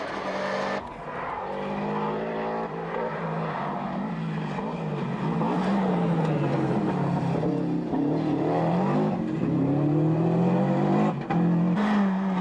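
Rally car engine from the 1992 Circuit of Ireland, revving hard and sliding through a stage with sweeping pitch changes as gears shift, loud and continuous throughout with no talk.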